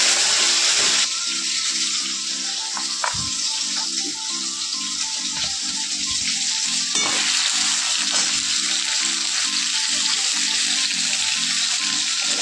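Lentil dumplings (bori) fry in a pan with a loud, continuous crackling sizzle that stays even throughout, broken by occasional faint clinks of a utensil, with no talking.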